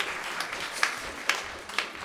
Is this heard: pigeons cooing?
no